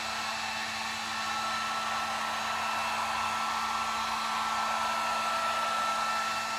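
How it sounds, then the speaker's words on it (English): An inexpensive heat gun drying chalk-style paint on chevron stripes, blowing as one steady loud whir with a constant tone that runs unbroken throughout and no voice over it. "Don't hold the heat gun too close and in the same spot"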